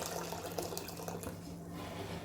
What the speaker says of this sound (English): I'm just going to pour some hot water, boiling water, into the pan